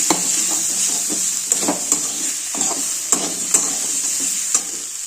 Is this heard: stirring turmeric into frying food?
yes